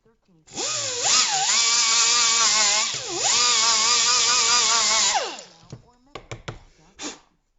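A power sander grinds down the edge of a folding CRKT knife, a loud close whine in two long bursts whose pitch dips and rises as the blade is pressed, followed by a few brief rattles and taps.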